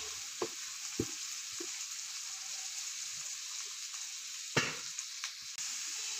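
Boiled banana flowers, precooked with salt and turmeric, stirred in a frying pan: a steady oily sizzle with a few soft scrapes and taps of the spatula, one louder knock near the end, and no voices.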